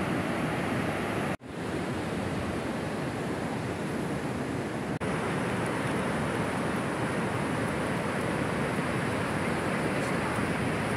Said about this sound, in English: Look at this wave coming in.